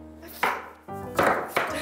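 Vegetables are julienned on a slicer in a cooking class: three sharp, rhythmic cutting strokes, close and fairly quiet, with a faint knock of kitchenware.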